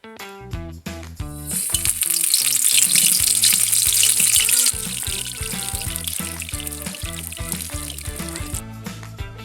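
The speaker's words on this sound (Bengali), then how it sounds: "এখন আমরা ফুলকপিটাকে তেলের ভিতরে দিয়ে দেবো" Cauliflower pakoras drop into hot oil and burst into a loud, dense sizzle and crackle that swells after the first seconds and holds steady, close up, with a few clicks of a utensil and no talking.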